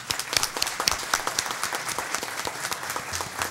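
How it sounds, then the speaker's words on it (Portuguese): Dense applause from a crowd at an academic ceremony honoring a professor emeritus, a steady patter of many hands clapping, close and fairly loud, with no voices over it. "Eu vou bater palmas para você."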